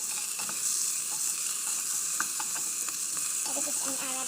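Onion sizzles and fries steadily in a pan with scattered scrapes and taps of stirring, close and fairly quiet with no talking.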